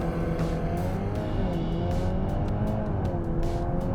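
An all-wheel-drive VW Golf R Mk8 with DSG gearbox launches hard from a standstill using launch control, engine noise loud and continuous with rising tonal sweeps through the gears and a brief tyre chirp, no talking.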